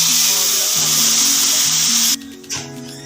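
Cumin seeds and onion frying in butter in a home pan for a chicken and potato lunch: a loud, steady sizzle with tonal music beneath, easing suddenly near the end.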